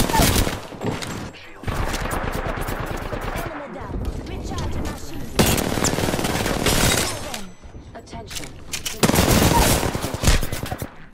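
Rapid bursts of automatic gunfire in a shooter video game, loud and close, coming in several long volleys separated by short pauses, with brief voices mixed in among the shots.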